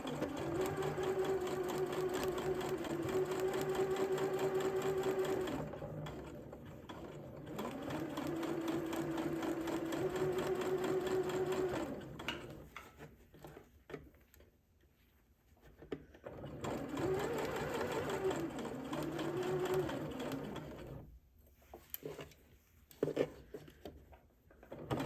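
A sewing machine stitches a Simplicity S9469 garment in several close bursts of rapid whirring, stopping and restarting between runs with quiet gaps and small handling clicks.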